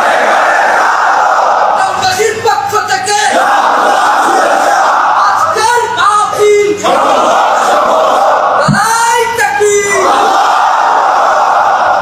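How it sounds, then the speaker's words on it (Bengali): A crowd at an Islamic sermon gathering shouts the takbir, three loud massed vocal bursts in succession over a background hum, each a short rising chant of many voices. "তাকবীর পড়ুন, আল্লাহু আকবার।"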